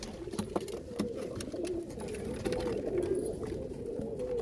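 Basrawi pigeons coo steadily on a rooftop loft, a soft continuous murmur of low cooing close by, with light fluttering and scattered clicks over a faint background hum.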